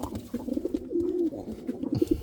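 Pigeons coo in a breeding coop, a close, loud run of soft throaty rolling calls, one drawn-out coo in the middle with shorter bursts on either side.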